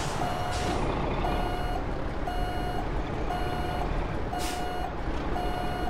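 Reversing beeps from a truck backing up a trailer in American Truck Simulator sound as a steady series of evenly spaced tones over a loud, constant engine rumble, with a couple of brief hissing bursts.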